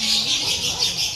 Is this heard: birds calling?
yes